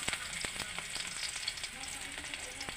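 Crab sautéing in a pan: a continuous, close, bright sizzle with scattered crackling pops and light stirring, with no talk.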